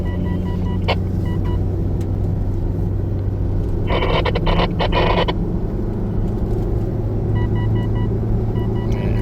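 A car engine drones steadily in low gear while climbing a steep mountain road through a national park, with a brief burst of rattling or creaking partway through.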